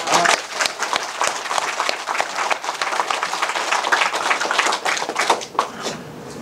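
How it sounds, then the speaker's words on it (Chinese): Audience in a lecture hall during a teacher training session breaks into loud, dense applause, many hands clapping close by and sustained for several seconds before tapering slightly at the end. "我们给自己来一次掌声"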